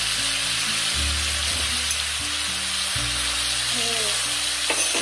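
Pork belly stir-frying in a wok with sugar, soy sauce and bean paste, giving a steady, loud sizzle throughout with a few stirring scrapes and low kitchen hum beneath.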